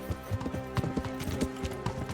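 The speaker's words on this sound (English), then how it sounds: "your horse is so fucking slow, man" Steady clip-clop of a horse's hooves in the medieval video game Kingdom Come Deliverance, an even trotting rhythm heard up close over game ambience with no talking.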